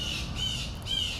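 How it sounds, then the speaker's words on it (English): Crows cawing in a few harsh squawks, close and loud, with a steady background hiss and no one speaking. "The crows agree."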